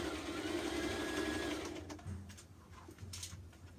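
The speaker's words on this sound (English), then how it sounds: "I'm going to stitch this dress together" A sewing machine stitching a dress hums steadily and close for about two seconds, then stops, leaving faint handling clicks and quiet room noise.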